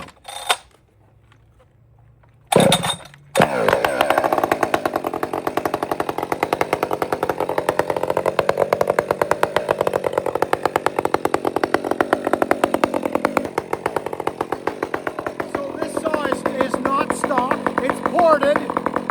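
A ported Husqvarna 564XP chainsaw starts after a quiet pull and then runs loud and close, its engine buzzing steadily at high revs with slight rises and dips in pitch throughout.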